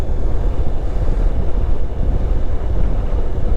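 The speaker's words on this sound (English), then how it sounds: "I'm getting a lot of wind in my face even at this speed." Wind buffets the microphone in a steady, loud rush while riding a 2025 Honda NC 750 DCT motorcycle at speed, masking any engine sound.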